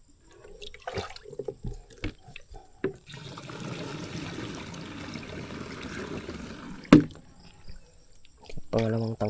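Water runs steadily into a tank for several seconds, a continuous splashing trickle with clattering knocks before and after, and people speak briefly around it.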